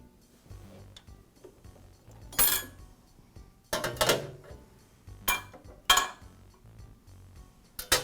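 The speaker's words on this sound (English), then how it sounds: "I'll use the magnetic holders that came with the planer to remove the plates and blades" Steel blades and clamp plates being lifted off a Makita power planer drum with magnetic holders, giving a few sharp metallic clinks and taps, scattered and close, with quiet handling noise in between.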